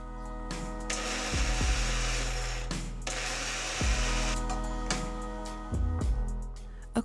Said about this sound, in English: You can grind your oats yourself either by using a food processor, a coffee grinder like I'm showing you